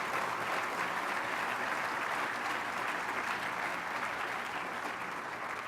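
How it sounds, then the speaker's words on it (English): A conference audience applauds its morning speakers with a sustained, even wash of clapping from a large crowd, heard at a moderate distance and fading slightly toward the end, with no talking over it. "please give another round of applause to our speakers this morning"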